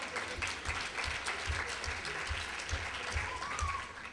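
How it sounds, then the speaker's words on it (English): Audience applause at a celebration for a couple, a steady wash of many hands clapping at moderate distance, continuous for several seconds. "You can clap."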